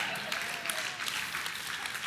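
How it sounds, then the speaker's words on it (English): A church congregation claps during a sermon: a sustained, moderately loud round of applause from many people, dense and even throughout with no distinct speech on top. "Less and less clapping as I continue with this pattern of preaching."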